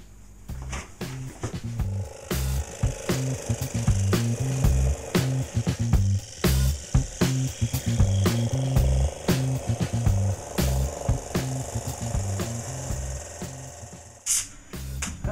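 Bursts of rough, rhythmic rubbing and scratching, like a sanding tool working a surface, stopping and starting repeatedly at close range outdoors with no talking, sanding a wooden electric bass guitar body.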